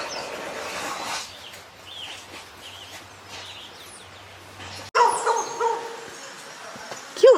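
Puppies barking on the Pianista Trail in the Panama jungle, a few yips and barks in the middle distance over steady insect and bird ambience, growing louder and closer near the end.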